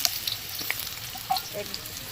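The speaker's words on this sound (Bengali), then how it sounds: "পেঁপে আর বিনসটা হালকা করে ভেজে নিয়েছি" Sliced papaya and beans fry lightly in hot oil for a Bengali shukto, giving a steady, close sizzle with small pops throughout.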